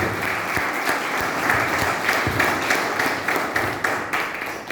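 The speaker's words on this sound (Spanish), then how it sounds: "Un aplauso entonces para nuestro maestro Gonzalo Osorio" An audience at an event in Quindío applauds a teacher being introduced, a dense, sustained wash of many hands clapping together at moderate distance, steady throughout with no voices over it.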